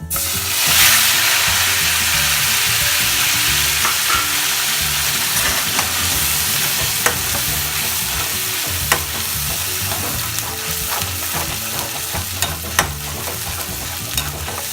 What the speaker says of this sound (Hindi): लहसुन प्याज का पेस्ट भून के तैयार हो गया है इस तरह से